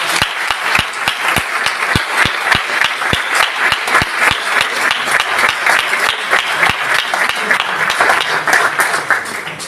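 An audience at an evening lecture breaks into sustained applause in tribute to the late Javier María, with many hands clapping densely and steadily for about ten seconds, including a few distinct sharp claps close by.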